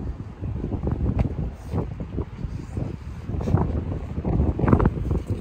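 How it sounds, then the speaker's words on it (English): Strong outdoor wind buffets the microphone in a backyard, a continuous low rumbling roar with gusty swells throughout and no other clear sounds. "I know it's very windy."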